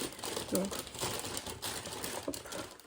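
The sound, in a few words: full plastic trash bag being crumpled and handled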